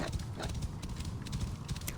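Horse hooves clip-clop steadily in an Assassin's Creed video game set in ancient Egypt, a quick even rhythm of soft thuds close by, alone without talk.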